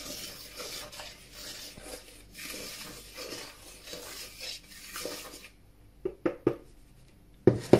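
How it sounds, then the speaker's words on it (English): Dry ingredients for soda farls get stirred in a bowl with soft, repeated scraping and rubbing strokes for about five seconds, followed by a few sharp clinks of a utensil against the bowl. "Let's give this a mix."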